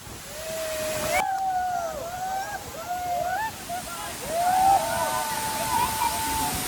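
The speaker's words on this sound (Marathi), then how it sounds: "आता तुम्हाला समजलं असेल रानपाटचा धबधबा किती मोठा आहे" A large waterfall at Ranpat in the Konkan region roars with steady, broadband rushing water that continues throughout while people talk over it.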